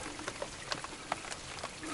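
Rain falls steadily on a marsh during an autumn duck hunt, a faint, even patter with scattered sharper drops tapping close by.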